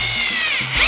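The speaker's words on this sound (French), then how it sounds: "On va percer en diamètre 6." Festool TXS 10.8V cordless drill boring a 6 mm hole, a close, steady high-pitched motor whine that holds for the full second and briefly changes pitch near the end.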